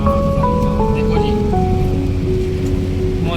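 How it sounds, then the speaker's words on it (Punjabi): Steady, loud rain pours down during a storm, a dense unbroken hiss close by, while a sustained voice carries over it. "ਮੀਂਹ ਕਿਣਮਣ ਕਿਣਮਣ ਲੱਗੀ ਨਿੱਕੀ ਨਿੱਕੀ"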